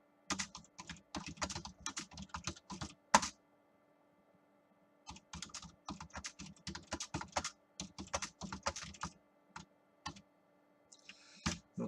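Rapid keystrokes clatter on a computer keyboard in two long bursts split by a pause of about two seconds, with a few scattered clicks near the end; close and clear, no voices.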